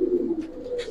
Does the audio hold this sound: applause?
no